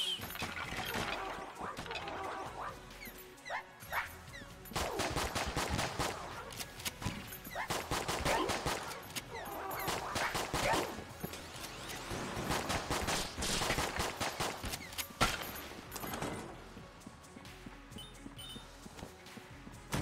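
Repeated gunfire from a tranquilizer gun in the game Enter the Gungeon, rapid clattering bursts in clusters with short gaps between them, fairly quiet and layered over busy game sounds.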